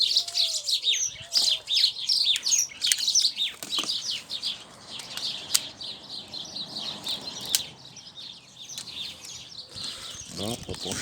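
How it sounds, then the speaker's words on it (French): Birds chirping and calling outdoors beside a swimming pool, bursts of bright tweets scattered across the scene with a few wing flaps, and a person talking quietly in between. "Ah, les oiseaux qui font des siennes."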